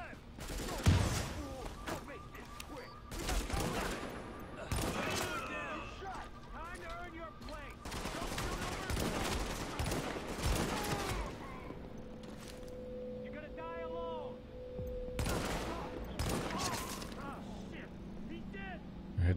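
Gunfire in The Division, a third-person shooter: dense bursts of automatic rifle fire and scattered single shots in repeated volleys across the scene, with mechanical clicks and a steady background hum.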